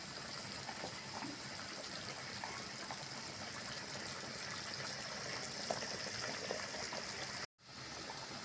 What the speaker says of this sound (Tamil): பாருங்கள், மசாலா நல்லா கொதிச்சிருக்கு.